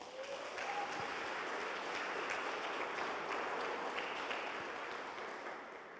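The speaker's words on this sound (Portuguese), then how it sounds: "Você pode aplaudir a Jesus?" Church congregation applauding during a sermon, a dense, even wash of many hands clapping that holds steady throughout and tapers slightly at the end, with no talk.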